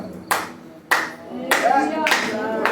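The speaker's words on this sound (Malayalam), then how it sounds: "4 പേരുണ്ടെങ്കിൽ 400 പേരുടെ കയ്യടി ഉയർന്നു" A church congregation claps loudly in bursts, three sharp rounds of hands that swell into sustained applause, with a voice faintly heard beneath.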